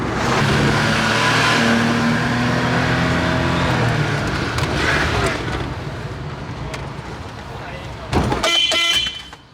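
Small Japanese JDM mini truck engine revving hard on a dyno, a loud sustained high-rpm drone that gradually eases off before a sharp burst near the end, with voices talking over it.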